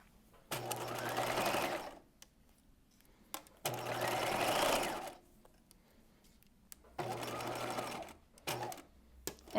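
Sewing machine basting a side seam of a Breton top with a narrow zigzag stitch at half-inch allowance, running in three steady bursts of about two seconds, with a brief fourth run near the end and short pauses between.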